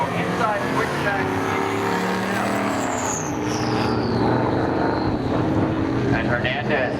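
Drag racers launch at a spectator drag night at Seekonk Speedway, a 94 Camaro against another car, their engines roaring loud and steady with a rising whine as they pull away, under a track announcer's commentary.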